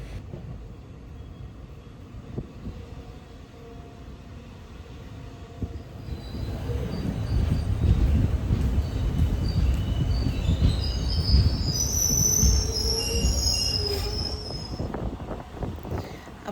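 A train rumbles along the rails near Perunad railway station, Kerala, growing louder after a quieter start, with high metallic wheel squeals ringing out over the steady roar.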